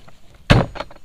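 A drawer on a Flex Stack Pack camp kitchen box slides out with one loud, short rumbling scrape, followed by a fainter knock shortly after, close by with no talking.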